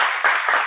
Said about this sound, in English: And everybody should applaud.